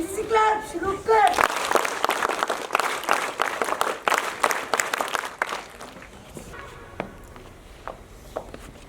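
NCC cadets at a Sainik School Toastmasters club event break into rhythmic group clapping, a loud burst of synchronized claps that builds, holds steadily and then tapers off, with voices speaking over the start.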